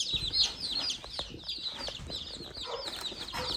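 Chickens cluck softly in a stock tank brooder, with a steady murmur of chirps and clucks that carries on throughout, close by.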